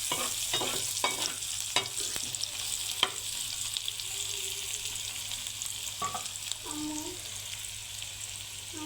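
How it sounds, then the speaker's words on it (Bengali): Garlic fries in a pan with a constant soft sizzle while a utensil scrapes and knocks against the pan in irregular strokes, the frying running steadily throughout. "রসুনটা লাল লাল হয়ে গেছে এখন শাকটা দিয়ে দিব"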